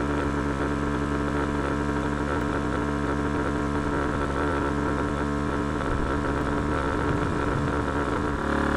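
A small air pump inflating floats runs continuously with a steady, close, droning motor hum that stays even throughout, and no one speaks.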